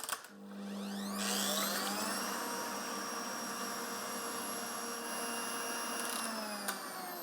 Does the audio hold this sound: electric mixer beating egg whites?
yes